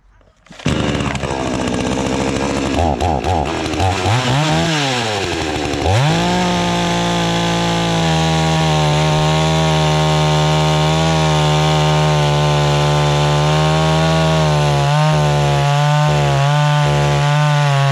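NAC CB-35-BL cordless battery chainsaw revving up and cutting through wood, a loud continuous whine that climbs in pitch, then holds steady with brief dips as the chain bites, close by and with no talk over it.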